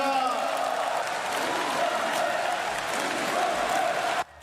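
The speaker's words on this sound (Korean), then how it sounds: "윤석열 대통령께 큰 환영의 박수를 부탁드립니다." A big crowd at a party convention applauds to welcome President Yoon Suk-yeol, loud sustained clapping mixed with cheers, whoops and chanting voices, cutting off abruptly near the end.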